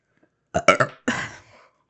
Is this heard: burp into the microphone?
yes